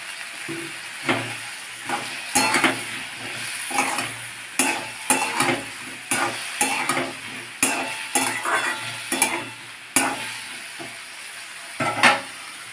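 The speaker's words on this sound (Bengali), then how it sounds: "এর সাথে দিয়ে দেবো একটু আমার সিজনিং করা মটরশুঁটি।" Seasoned green peas go into finely chopped tomatoes frying in a pan for sago khichdi, with a loud close sizzle and repeated sharp scrapes and clanks of a spoon stirring against the pan.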